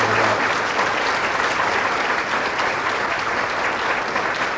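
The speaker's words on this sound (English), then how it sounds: "let's give them a good big round of applause" A banquet audience gives sustained, even applause, a dense wash of many hands clapping that holds at a steady level throughout.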